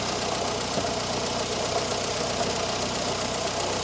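A Morris Minor engine runs steadily during tuning, with a close, even idle throb and a knocking mechanical texture throughout.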